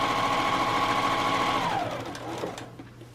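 A sewing machine runs steadily, stitching a roughly half-inch seam on a fabric sewing caddy with cardboard inside. Its close motor whir holds an even pitch, then slows and stops near the end, with no voices over it.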